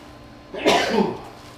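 A single abrupt sneeze-like burst, loud and close, rising sharply and trailing off after a moment of quiet background.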